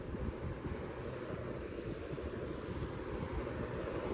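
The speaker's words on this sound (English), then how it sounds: "This thing feels like it's blowing out more air." A Lasko 3733 box fan, just cleaned of heavy dust, blows air in a steady loud rushing roar, close and unbroken.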